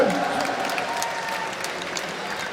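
An audience at the Gamers Assembly esports event bursts into applause, a dense wash of clapping that starts strong and tapers slightly as it continues.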